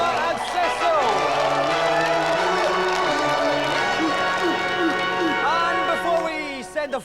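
A television studio audience applauds and cheers for two final contestants on a video game show while a presenter talks loudly over the crowd, which swells before dropping away at the end.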